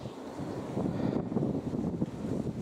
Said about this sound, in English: So it's getting a bit windy now actually